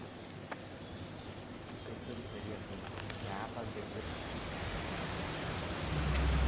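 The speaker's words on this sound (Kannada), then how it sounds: "ಕೊಡಗು ಜಿಲ್ಲೆಯಾದ್ಯಂತ ಮಳೆಯ ಆರ್ಭಟ ಮುಂದುವರೆದಿದೆ" Heavy monsoon rain falling across Kodagu district in Karnataka, a dense continuous hiss of downpour that swells slightly louder toward the end, with no voices.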